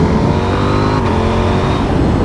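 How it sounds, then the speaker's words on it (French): A loud, steady KTM 890 Duke R motorcycle engine roar with a new exhaust silencer runs throughout, close and continuous with a rough low rumble and a slight rising whine, no voices. "moto a quand même une belle sonorité qui est pas très forte"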